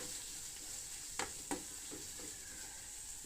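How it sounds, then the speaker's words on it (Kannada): Onions and vegetables fry in oil in a pan, a steady soft sizzle with a couple of sharp stirring scrapes and clinks, fairly quiet and without voices. "ಈಗ ಚೂರು ಇದು ಈರುಳ್ಳಿ ಎಲ್ಲ ಕಂದು ಬಣ್ಣಕ್ಕೆ ತಿರುಗೋವರೆಗೂ ಇದನ್ನು ಈ ರೀತಿ ಬೇಯಿಸ್ಬೇಕು."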